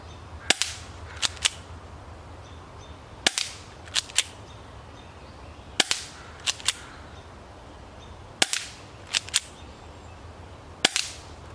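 Crosman Stinger P311 airsoft pistol shots aimed at a bullseye target on a tree outdoors, sharp snapping cracks fired in quick groups of three with pauses between, and no talking.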